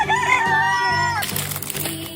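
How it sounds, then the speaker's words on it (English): A hen or rooster calls with a loud drawn-out crowing cry that breaks into short clucking sounds, close and alone, with no talking. "H for hen."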